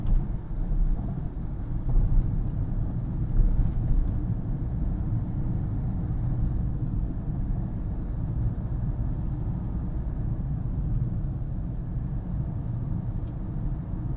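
Car driven in third gear at a little over 30 on an empty city road, heard from inside the cabin as a steady low engine and road rumble with some wind buffeting, no talk.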